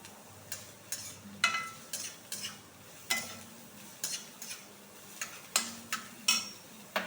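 Chopped onion going into a hot pan with garlic, giving a soft sizzle under repeated stirring and scraping knocks from a utensil against the pan, fairly close and steady, with no talking.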